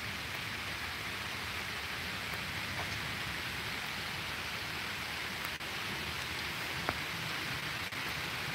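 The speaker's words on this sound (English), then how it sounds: "the wind is picking up now, and the rain as soon as I said that" Wind and rain build outdoors near a standing stone, a loud, even wash of rainfall and gusting noise that fills the scene, with no voices over it.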